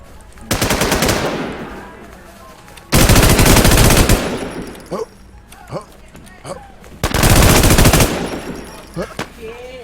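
Three loud, long bursts of rapid automatic gunfire from a video game, each lasting about a second, separated by short gaps where a voice speaks.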